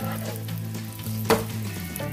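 Pollock pancakes (dongtae-jeon) fry in oil in a pan, giving a steady close sizzle with crackling and a brief louder spatter midway.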